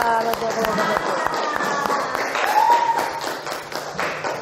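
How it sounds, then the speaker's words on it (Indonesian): Students in a classroom clap for a presenting group, quick, dense applause mixed with chatter and voices throughout. "Tepuk tangan untuk kelompok 1"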